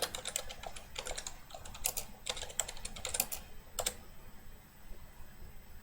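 Someone types a folder title on a computer keyboard: a quick run of soft key clicks, close and quiet, with a couple of firmer taps near the end, no talking.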